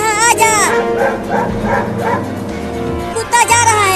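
A dog barks and yips repeatedly just outside a house, its barks mixing with whimpers and rising over loud, continuous talk from several people.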